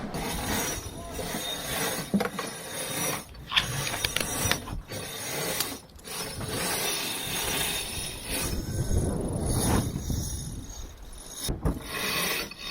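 A winch on a sailboat grinds in the Yankee sail at sea in the southern Atlantic, a continuous loud mechanical whirring and ratcheting under wind noise, with brief dips between winding strokes.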